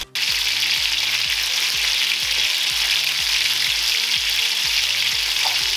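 Squid ink croquettes frying steadily in hot oil at medium heat, a dense, continuous sizzle with a pulsing bubbling underneath, close and loud with no talking.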